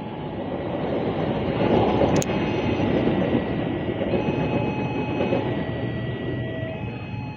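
A passenger train rolls through Lempuyangan station in Yogyakarta, Indonesia, a steady close rumble of wheels and carriages over about seven seconds, with one sharp metallic clank partway through and no talking.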